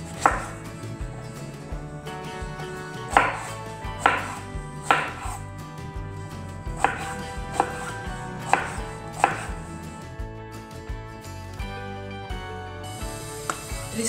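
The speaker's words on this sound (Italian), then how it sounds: "Tagliamo la melanzana a dadini." Eggplant being diced with a knife on a cutting board, a steady run of sharp, close chopping taps in clustered rhythmic bursts, with no talking.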